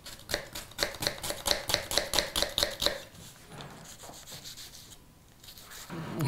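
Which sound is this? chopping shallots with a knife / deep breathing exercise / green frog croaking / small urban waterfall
chopping shallots with a knife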